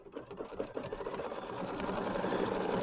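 An embroidery sewing machine stitches a mini quilt, a fast steady mechanical whir and needle chatter that grows a little louder and smoother, close by and heard alone.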